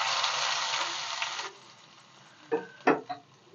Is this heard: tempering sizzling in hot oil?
yes